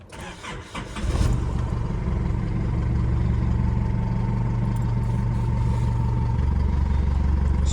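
Car engine starting and then idling steadily at close range with a constant low rumble, following a cooling-system fix for air bubbles; no talk.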